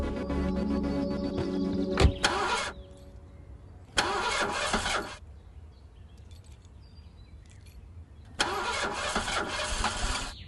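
A car engine cranks and catches three separate times, each burst loud and close, lasting a second or so, with quieter gaps between them and faint birds in the background.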